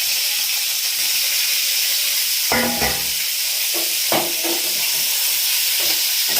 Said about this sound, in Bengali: এর মধ্যেই আমি কপিগুলো দিয়ে কপির টুকরোগুলো ভালোভাবে ভেজে নেব।